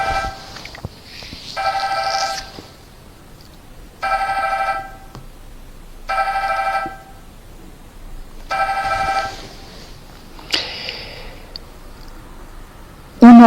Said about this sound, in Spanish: Perdonad que suene el teléfono, pero cuando he empezado esta charla me he dado cuenta de que no había apagado el móvil.